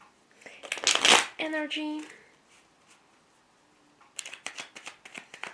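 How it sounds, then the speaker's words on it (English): A deck of tarot cards is shuffled in quick riffling bursts, crisp and close, with someone speaking in between. "And then from this deck, let's just quickly shuffle."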